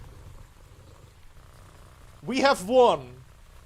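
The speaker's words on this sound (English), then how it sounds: "That is a loud ass purr." A petted creature in the open-world game Once Human purrs loudly, a low pulsing rumble that runs steadily beneath a short burst of spoken voice near the end.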